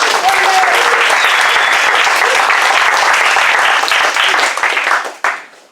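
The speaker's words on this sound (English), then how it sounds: "Shall we all applaud our speakers all at once?" A meeting audience breaks into loud, sustained applause for the speakers, a dense wash of clapping that holds steady for several seconds before quickly dying away.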